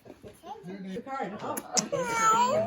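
A cat meows several times in drawn-out, rising calls, close by, with a person's voice mixed in among them.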